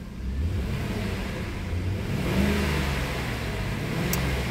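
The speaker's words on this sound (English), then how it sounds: "let's hear about the sound of the engine" A Jaguar car engine idles steadily inside a garage, a smooth, even mid-pitched hum that stays close and constant with a faint whir on top and no other sounds.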